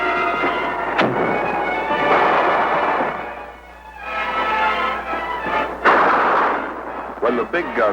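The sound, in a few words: artillery fire from the fort's big guns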